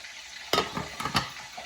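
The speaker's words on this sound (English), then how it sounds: "You can hear that chicken still frying, the last few little pieces." The last few pieces of chicken fry in hot oil with a soft, low sizzle, and a few sharp crackles and pops stand out in the middle.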